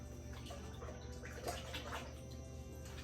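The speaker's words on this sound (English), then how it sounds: "I'm gonna give this a little more wash." Water runs steadily over house plant roots to rinse the soil away, a faint continuous splashing with soft drips under a low background hum, and no speech.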